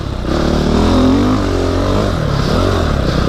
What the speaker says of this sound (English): the dirt bike's the most fun to record on